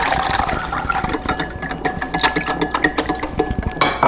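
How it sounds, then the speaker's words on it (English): Beef broth is poured into a pan for pepper steak, giving a continuous close liquid splashing and gurgling with a few light clinks. "then I'm going to add in 1/2 cup of beef broth."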